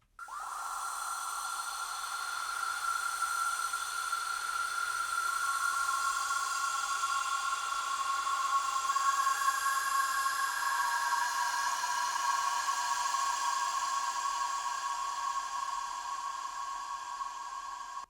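Sustained Serum synth pad with long, washing reverb and chorus, high shimmering tones layered over a steady airy hiss, shifting pitch slowly over nearly twenty seconds.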